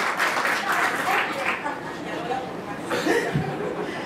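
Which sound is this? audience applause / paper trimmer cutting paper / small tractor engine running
audience applause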